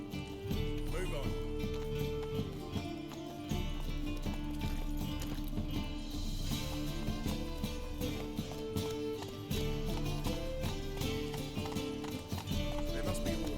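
Roach, the horse in The Witcher 3, gallops with a steady rhythmic clip-clop of hooves under continuous game music, close and fairly loud.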